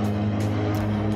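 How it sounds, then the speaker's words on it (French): A small Formula 4 race car engine drones steadily with a buzzy, lawn-mower-like tone, a constant close hum with no speech over it. "vous entendez un bruit de tondeuse."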